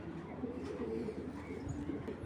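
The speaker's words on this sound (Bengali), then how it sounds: "এখানে এক জোড়া বিদেশি কবুতর দেখাচ্ছি" A grizzle pair of imported racing pigeons from a Chinese club coo softly in low, throaty murmurs, faint and close, while someone talks over them.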